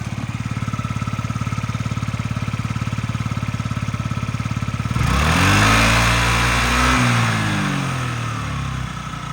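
Japanese Yamaha Jog SA36 fuel-injected scooter engine idling with a fast, even putter close by, then revving up into a louder rising and falling whine.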